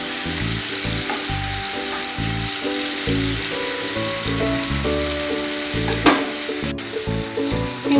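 Prawns fry and get stirred in a little oil, giving a steady close crackling sizzle with rhythmic clatter from the stirring and no talk.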